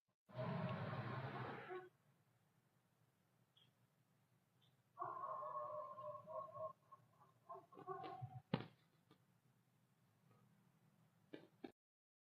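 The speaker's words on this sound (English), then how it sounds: "you hear the dogs barking, so they must have heard something" Several dogs bark near a chicken house, picked up faintly by an outdoor door camera: a short burst of barking, a pause, then more yips and barks with a few sharp sounds in between.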